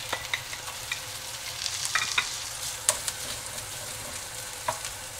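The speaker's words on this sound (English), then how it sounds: "we're going to cook our bacon and our mushroom." Steady crackling sizzle of bacon and mushrooms frying in oil in a hot pan, with a few clinks and scrapes of stirring scattered throughout.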